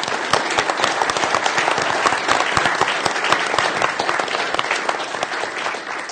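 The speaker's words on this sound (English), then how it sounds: "I'd just like to acknowledge you now, Dia, with a round of applause, please" A crowd applauds steadily and loudly, dense clapping holding an even level from start to finish.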